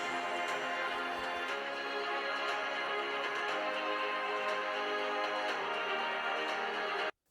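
Music plays through the built-in speakers of a 2023 Razer Blade 16 gaming laptop at 50% volume, a steady, full, continuous sound with no talking, cutting off abruptly at the end.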